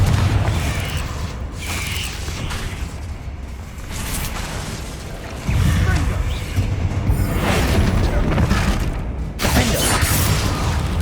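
Confringo and Bombarda spell explosions in Hogwarts Legacy, loud booming blasts and crashing impacts that burst repeatedly over a dense, rumbling battle din, with a person shouting over them.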